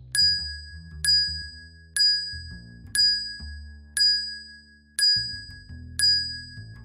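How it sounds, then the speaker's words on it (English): A ritual bell struck seven times at a slow, even pace of about one strike per second, each clear ringing tone decaying before the next, over a soft low musical drone. "Bell is rung 7 times."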